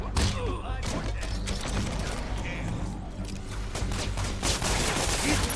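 Sustained gunfire from thugs in Marvel's Spider-Man Remastered game, dense rapid bursts and thuds running loud and continuous throughout, with shouting voices mixed under the shots.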